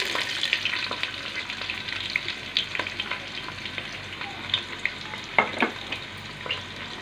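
Onions frying in hot cooking oil for beef haleem, a steady close sizzle with frequent sharp crackles and pops as they are stirred, with no voices.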